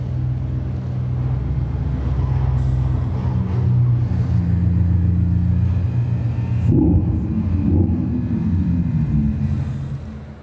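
Mercedes-AMG GT concept four-door coupe engine, a loud deep rumbling drone with a low exhaust note that swells and shifts mid-way, heard alone without talk at an auto show.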